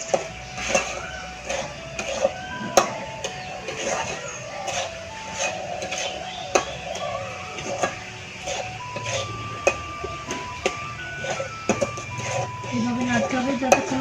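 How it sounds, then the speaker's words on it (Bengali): A ladle stirs besan and sugar in a pan while making besan sandesh, giving repeated scraping and knocking strokes at close range with an uneven rhythm and some faint background clatter. "দলা যদি থাকেও একটু, তাহলে হাতা দিয়ে এটা আমি এখন নেড়ে দেবো।"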